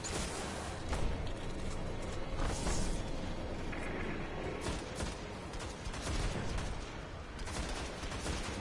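Gunfire in a video game raid, a continuous dense barrage of rapid shots and blasts with rumbling explosions, loud and unbroken throughout.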